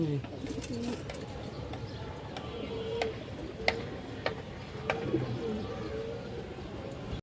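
Pigeons coo softly in a pigeon collection, with low, rolling calls repeating under scattered clicks and ticks, while faint voices murmur in the background.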